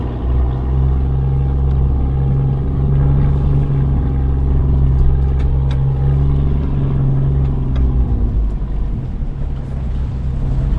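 A vehicle grinds through a muddy clay bank on a rough off-road track, its engine a loud, steady low rumble that holds throughout with no talk over it.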